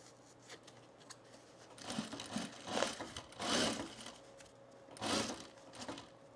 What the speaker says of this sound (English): Trying to ease this seam in so it doesn't get torqued.